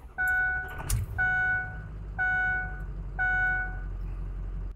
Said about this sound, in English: let me show you what it sounds like when I run the truck hot